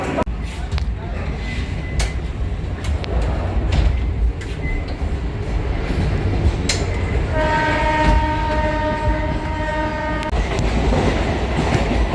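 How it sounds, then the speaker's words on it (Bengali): Train sounds on platform 2 of Bidhannagar railway station, with broad rumbling rail noise throughout and a loud sustained horn-like tone near the end, under busy station ambience. "আমি এখন দাঁড়িয়ে আছি বিধাননগর রেলওয়ে স্টেশনে 2 নম্বর প্ল্যাটফর্ম"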